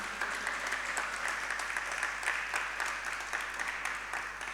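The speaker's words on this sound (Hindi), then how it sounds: "एक बार जोरदार तालियां बजाइए इनके लिए।" Steady crowd applause during a Jain religious sermon, a dense, even wash of many hands clapping at moderate distance, with low hum underneath and no talk over it.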